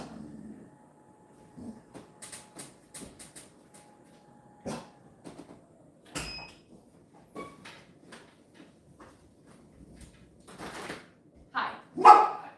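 Two household dogs bark indoors in short, scattered bursts, fairly quiet and somewhat distant, with a person talking intermittently between the barks.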